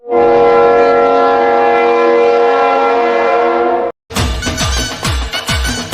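A Kolkata Metro train at Dum Dum station sounds a loud, sustained horn tone that cuts off abruptly, followed by close rumbling and clattering of the train moving.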